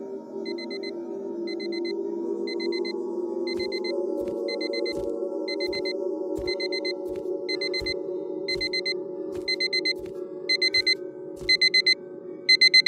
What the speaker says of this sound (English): My alarm clock.